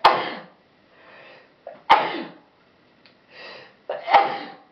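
A person sneezes three times in a row, each a sharp, loud burst followed by a breathy tail, with short quiet gaps and soft inhales between them.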